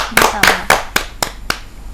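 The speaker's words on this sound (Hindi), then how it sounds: "जोरदार तालियों के साथ हम उनका स्वागत करें" Six sharp, evenly spaced hand claps welcoming a poet at a Hindi poetry gathering ring out loud and close, slowing slightly toward the end, over a low background hum.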